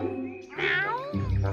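A cartoon cat gives a single drawn-out, wavering meow, close and clear, ending as a low hum or rumble comes in underneath.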